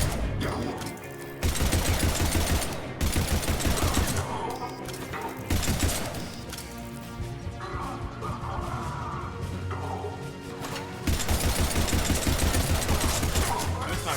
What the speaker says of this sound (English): Here's my gas shotgun.